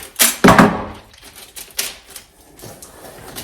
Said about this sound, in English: I'm going to tape it